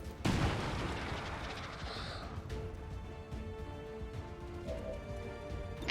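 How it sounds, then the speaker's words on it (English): Loud game-style blast and gunfire from a grenade and shotgun attack on a sectoid in XCOM 2, a sharp burst near the start followed by a long decaying rumble with scattered impacts. "we're just going to send another grenade and shotgun at the sectoid"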